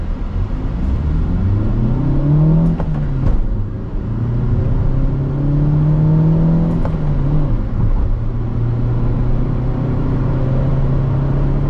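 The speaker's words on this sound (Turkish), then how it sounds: "Şöyle bir hızlanalım." A Fiat Fiorino 1.4 Fire van engine accelerating steadily, its rising whine climbing through the revs with a brief dip at a gear change before pulling up again, loud and continuous from inside the cab.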